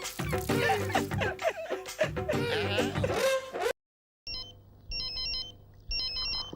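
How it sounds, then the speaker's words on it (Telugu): A mobile phone rings in a comedy film scene, two bursts of a warbling electronic ringtone after a stretch of people talking and a brief silence. "ఫోన్ మోగుతుంటే ఎచ్చావే?"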